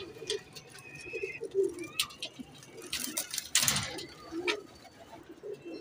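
Pigeons cooing in a loft with soft, low repeated coos, close by, mixed with wing flaps, scratching and a mechanical rattle, while someone talks intermittently.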